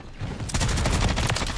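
Rapid bursts of automatic gunfire in a first-person shooter video game, loud and close, with shots rattling in quick succession and no pauses.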